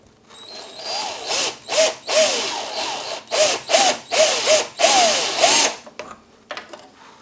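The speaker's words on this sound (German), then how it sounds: "So, ich habe jetzt auf einen 9er Bohrer gewechselt. Und mit dem komme ich hier wunderbar durch das Loch durch." A power drill fitted with a 9 mm bit bores through a hole in a short series of whining bursts, rising and falling as the trigger is pulsed, loud and close.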